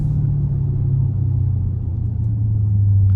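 A Dodge Challenger Scat Pack engine gives a deep, close, continuous rumble for a few seconds, steady with only a slight swell in pitch.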